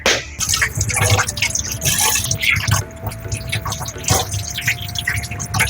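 Water splashing and dripping as a ripe ash gourd is rinsed by hand, close and steady for several seconds with trickling and small splashes, plus a faint tonal hum.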